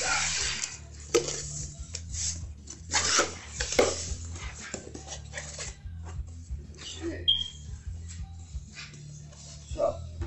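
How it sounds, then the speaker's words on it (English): Cardboard shipping box for a MYSWEETY 3018 MAX desktop CNC router being opened, with scattered close clatters, rustles and knocks of parts being handled on a table, plus a low steady hum in the background. "we're going to start off opening up the main box that has all of the components to build the CNC in it"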